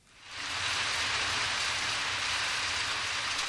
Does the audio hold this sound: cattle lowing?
no